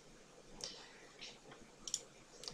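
Quiet mouse clicks on a bookmark button in a web browser: a few sharp, faint clicks spaced apart, with a soft click cluster near the end against a low background hiss.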